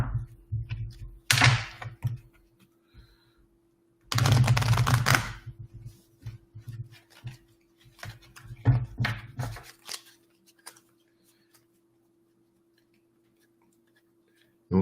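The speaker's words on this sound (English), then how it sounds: "Let me give this a shuffle." A Spirit Messages oracle card deck is shuffled close up in several brisk riffling bursts separated by pauses, with scattered light taps and clicks in between and no talking.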